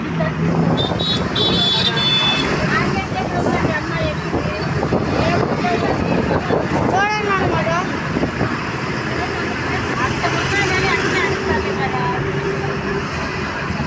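A bus speeds along the main highway out of Guntur, its engine and road noise a steady loud rumble throughout, with horn toots and traffic sounds around it and someone talking over it.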